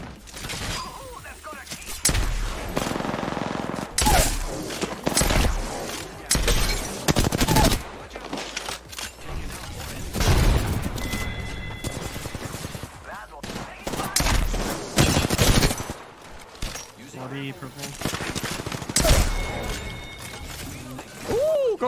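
Gunfire in the video game Apex Legends, with R-301 rifle and Peacekeeper shotgun shots in dense bursts and fusillades throughout, mixed with game effects, while a player talks excitedly over it.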